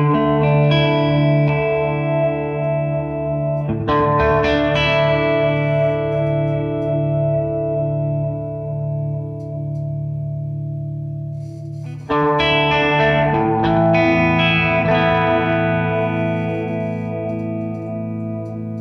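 Sustained electric guitar chords through a Way Huge Supa-Puss analog delay pedal ring out with a warbling, modulated delay that trails behind each strum, with two fresh chords struck partway through.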